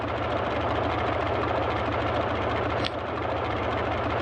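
A Boeing 247D's radial piston engine runs steadily in Microsoft Flight Simulator 2020, a loud continuous throbbing drone with a rapid knocking rhythm and one brief click partway through.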